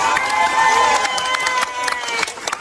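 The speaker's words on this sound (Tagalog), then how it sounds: "Narinig lang nila yung dating Pangulong Rodrigo Roa Duterte pumalakpak." A crowd bursts into clapping and cheering, lively and fairly close, with voices mixed through the noise, then fading slightly over a couple of seconds.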